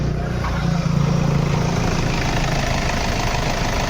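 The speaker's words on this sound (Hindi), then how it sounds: "चाबी को ऑन करूँगा और इंजन को स्टार्ट करेंगे। तो इंजन स्टार्ट हुआ" A Toyota Fortuner engine idles steadily after starting, now running smoothly once its misfire has been repaired. The low, even rumble and vibration hold close and continuous throughout.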